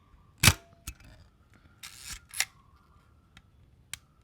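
A Zenit EM SLR film camera fires its shutter at 1/500: a sharp mechanical clack, followed by quieter clicks and a short whirring wind-on, all close and isolated against silence.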